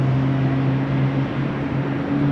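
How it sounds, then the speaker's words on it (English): GE90 jet engines starting up at rainy Amsterdam Schiphol Airport, a steady droning hum with a low tonal whine holding across the whole stretch, heard from a distance with no talk. "GE90s spooling up. Starting up, I should say."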